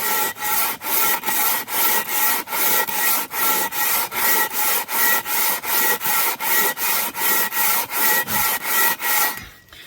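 Rhythmic back-and-forth rasping of a longboard sander, its paper glued to a 6x6 wooden block, scrubbing a rusty exhaust manifold surface; about twenty even, close, loud strokes in steady succession, no talking.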